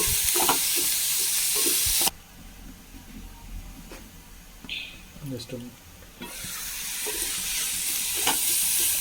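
Salted mixed vegetables are stirred in a hot pan, with loud sizzling at first, then a quieter stretch of spoon scraping and clatter before the sizzle swells back up.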